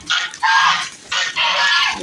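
Nearby ducks quacking loudly in a few raspy bursts, two pairs of harsh calls close together.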